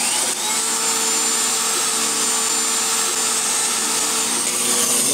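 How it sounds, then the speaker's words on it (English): A drill spins a bolt held in its chuck against a cloth polishing wheel with rouge, producing a steady, loud whirring hum with constant rubbing friction and no breaks. "we're actually sticking the bolt in the chuck of the drill and doing this."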